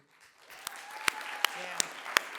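At a city commission meeting, scattered applause builds after a brief quiet start, with a handful of sharp, close individual claps standing out above a soft, thin spread of clapping. The level stays fairly quiet throughout.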